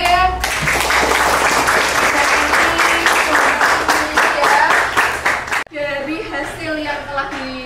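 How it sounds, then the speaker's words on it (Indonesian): Classroom applause for a student named Adinda, many hands clapping loudly and steadily for about five seconds before breaking off abruptly, with children's voices chattering afterward. "kita kasih aplaus sama Adinda ya"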